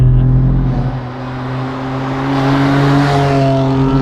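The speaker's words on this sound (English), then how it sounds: "the exhaust sounds a lot better in the car than it does outside the car" A deep, steady exhaust drone of a 525 hp track-ready BMW M4 heard from inside the car, with harmonics rising as it accelerates, loud and continuous without voices.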